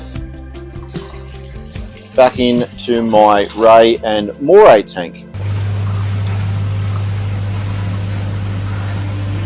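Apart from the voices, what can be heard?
pump pumping natural salt water into an aquarium tank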